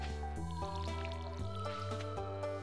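Repeated splashy water drips from a watering can on crops in the Stardew Valley farming game, recurring in short bursts over steady, tuneful background game music.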